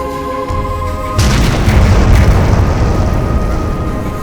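A directed blast in an open-pit diamond mine about 100 meters away, a sudden heavy boom that hits after a second of quiet and then rolls on as a loud, sustained roar of debris and rumble.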